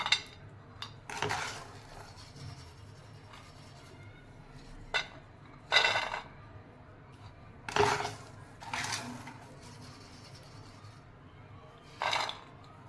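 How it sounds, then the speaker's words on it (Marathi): Roasted salted peanuts are scooped out of hot salt and dropped onto a plate, giving scattered rattling clatters and metallic scrapes in short bursts with quiet gaps between them, close by and moderately loud. "त्यातलं मीठ आता काढून घेते मी आणि प्लेटमध्ये काढून घेते दाणे"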